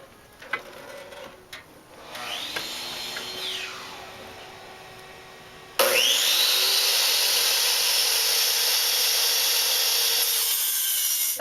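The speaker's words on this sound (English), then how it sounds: "Cutting my metal right now to the sizes I need so I can weld it" Aluminum metal pieces being cut to size with a power saw, a quieter whine rising and falling at first, then a loud, steady, high-pitched cutting screech that runs on to the end, close to the listener.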